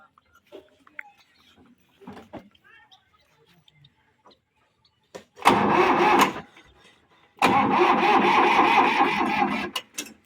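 An old Sonalika farm tractor, a ploughing and trolley machine offered for sale, cranks and fires up in two loud bursts of diesel engine roar, a short one then a longer sustained run, after a quiet stretch with faint background sounds.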